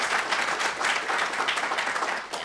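Audience applauding Professor Teresa Ghilarducci at a New School for Social Research event on New York City's retirement crisis, a steady dense wash of clapping from a seated crowd lasting the whole moment.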